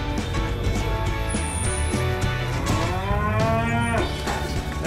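Cattle on a farm moo repeatedly, with long, loud, drawn-out calls overlapping one another from close by over a steady background of farm noise, and no talking.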